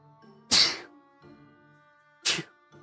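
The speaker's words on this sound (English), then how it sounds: "Sorry, I just sneezed." Two sharp, loud sneezes burst out about two seconds apart, close to the microphone, with faint background tones between them.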